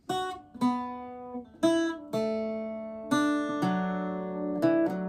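Solo Irish bouzouki plays the third line of Sí Bheag, Sí Mhór, a handful of plucked notes and chords ringing out with long sustain, close and unaccompanied.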